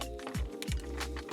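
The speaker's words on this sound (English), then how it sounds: "we're going to go ahead and take out these 4 screws" Screws are backed out of the shift boot trim piece in a 2023 Acura Integra, likely with a power driver: a close whirring motor with sharp pitch sweeps and small clicks over about a second.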